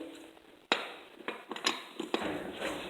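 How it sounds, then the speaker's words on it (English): Wheel nuts being broken loose on a lawn mower tire with a 13/16 socket on an extension, heard as a few sharp metallic clanks and ratchety knocks, close and fairly quiet, with no talking. "going to break the nuts loose on the wheel"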